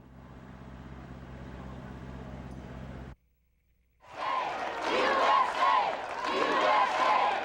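Crowd cheering at a rally for the troops, a loud swell of many voices with shouts rising after a brief silence, preceded by a steady background hum.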